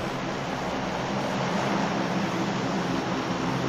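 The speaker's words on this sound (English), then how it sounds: "I'll wait for the plane." Propeller airplane in the mobile battle royale game PUBG Mobile droning steadily overhead, a continuous broad engine roar holding at even loudness throughout with no talk.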